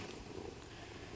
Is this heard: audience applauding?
no